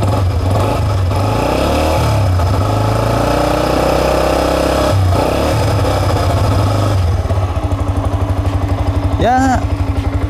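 A Yamaha R15 V2 sport motorcycle fitted with Rossi Sanca wheels idles loud and close with a smooth, steady thrum, then revs up briefly before settling, while people talk over it.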